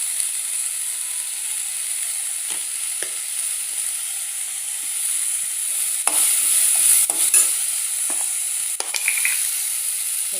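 Radish chutney ingredients, onions with salt and turmeric, sizzling and being stirred in a pan, a steady frying hiss with intermittent scraping stirs near the end, no talking.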